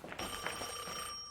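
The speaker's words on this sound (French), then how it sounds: "Téléphone, Dante, c'est peut-être elle." An old-style telephone bell rings steadily in an animated series, a bright continuous trill that fills the short moment with no voices over it.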